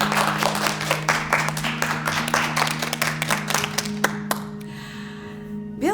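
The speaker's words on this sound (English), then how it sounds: "Let's all give them a round of applause." A classroom of children claps in a round of applause, dense overlapping hand claps over a steady low hum, thinning out near the end.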